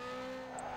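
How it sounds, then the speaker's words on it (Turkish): Tires squealing as a car skids in the racing game Need for Speed Underground 2, a steady high whine with an engine drone beneath it, heard briefly and alone. "Az kalsın araba kayıyordu bu arada."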